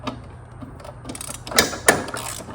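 A wrench ratchets against the blade nut of a Honda lawn mower, a few soft mechanical clicks building to two sharp, louder clacks near the end, close and without talk.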